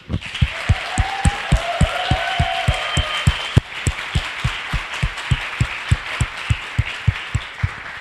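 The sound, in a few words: audience applause for event organizers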